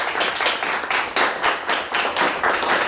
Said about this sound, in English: Nice round of applause for both teams.